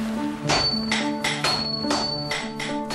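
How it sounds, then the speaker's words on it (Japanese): A Japanese swordsmith's hammer strikes heated steel on an anvil while forging a blade, giving about six ringing metallic blows in a steady rhythm, close and loud with a lingering clang. "叩き伸ばし続ける。 そして鉄の塊は刀の形へ姿を変えていく。"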